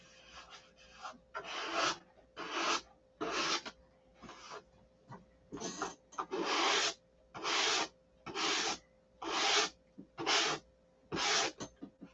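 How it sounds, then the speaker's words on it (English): Paint on a rudder being sanded by hand with 400-grit sandpaper, a close, steady series of raspy back-and-forth strokes in regular bursts with short pauses between. "I have to sand that. Sand that. This is 400."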